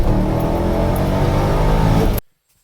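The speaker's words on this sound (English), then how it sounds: "daily driving this 500 to 600 horsepower, otherwise stock C5 Corvette" A supercharged 500 to 600 horsepower, otherwise stock C5 Corvette engine revs loudly and steadily up close, then cuts off abruptly into silence.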